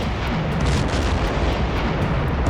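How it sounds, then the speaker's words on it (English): A deep, rumbling explosion from a sinking ship in the submarine game Silent Hunter 4, heard as a loud, continuous low roar with no distinct separate blasts, lasting throughout without any talk. "Oh, an explosion. That must have been the ship going down."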